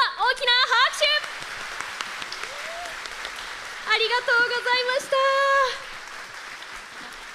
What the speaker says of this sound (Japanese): 大きな拍手